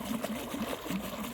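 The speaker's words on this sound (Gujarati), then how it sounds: "પાણી તો જો આવે ગજબનું આવે પાણી." Irrigation water flowing across a farm field, a steady close rushing and gurgling wash that holds evenly throughout with no talk.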